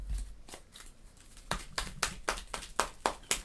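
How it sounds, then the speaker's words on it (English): A deck of Marvel Champions game cards is shuffled in a series of crisp riffling bursts, close and fairly quiet, speeding into a quick rhythm toward the end. "Let's go ahead and shuffle in."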